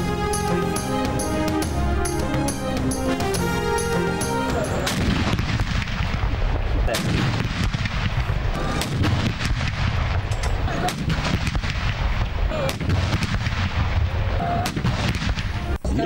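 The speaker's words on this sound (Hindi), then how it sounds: "सूबाई दारुल हुकूमतों में 21 तोपों की सलामी से हुआ।" A 21-gun artillery salute for Eid Milad-un-Nabi at a provincial capital in Pakistan: heavy cannon reports boom one after another at irregular intervals, loud and reverberant, following a brief stretch of music.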